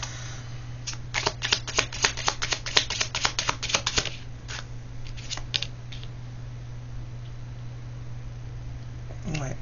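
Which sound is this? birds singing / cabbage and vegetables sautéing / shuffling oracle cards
shuffling oracle cards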